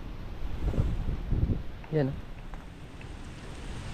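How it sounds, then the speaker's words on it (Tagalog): Gusty wind buffets the microphone with a low, rumbling roar, while someone says a brief word partway through. "Yan, malakas yung hangin."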